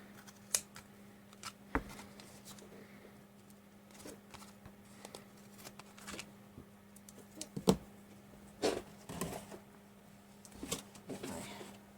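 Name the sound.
trimming paper packaging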